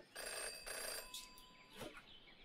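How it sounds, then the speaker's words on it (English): An old-fashioned telephone bell rings in the detective adventure game Jenny LeClue, two clear bursts of ringing followed by fainter rattling sounds, with no speech. "Jenny had learned never to ignore a ringing phone"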